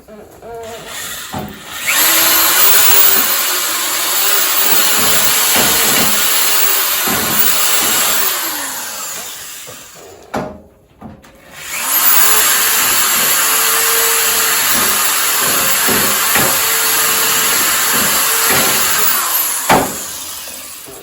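A power drill spinning a brush whirs steadily for about ten seconds, pauses briefly, then runs again at full speed; some talk is heard beneath the motor.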